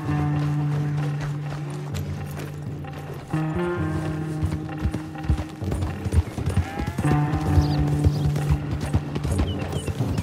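Rapid clip-clop of horse hooves galloping in Red Dead Redemption 2, loud and close, with rumbling and a whinny amid game music.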